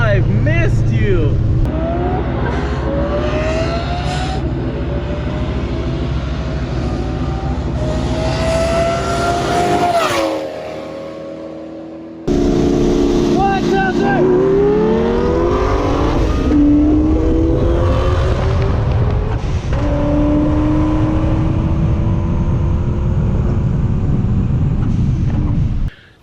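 A heavily modified 950hp Ford Mustang with a turbocharged engine revs repeatedly in loud rising and falling sweeps, with a brief drop in level partway through and someone talking over it.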